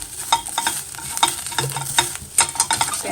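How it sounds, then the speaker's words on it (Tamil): Grated coconut dry-roasting in a pan, with quick repeated scraping and stirring strokes and a light crackle, close and brisk, with no voices. "தேங்காய் வறுபட்டுருச்சு."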